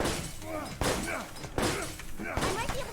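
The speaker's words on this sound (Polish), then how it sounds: "rozwalaj te szkło" Glass shattering in the Resident Evil video game, with several sharp broadband crashes at close range over a busy game soundscape, partly mixed with voices.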